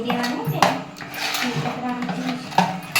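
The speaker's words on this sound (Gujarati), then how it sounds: "હળદર ને મરચું બધું નાખ્યું છે હવે મિક્સ કરીએ છીએ" Appe batter with turmeric and chili powder being mixed in a bowl, with a spoon clinking against the dish in irregular knocks beneath steady kitchen background noise.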